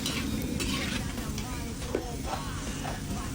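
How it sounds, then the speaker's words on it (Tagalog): Kikiam frying in hot oil in a wok, giving a steady close sizzle with stirring and scraping throughout, and no talking. "magprito na tayo ng kikiam sa talyase"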